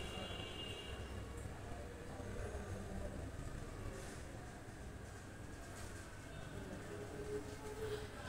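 A metro train stands at a station, giving a steady, quiet, continuous rumble and hum with no clear breaks throughout.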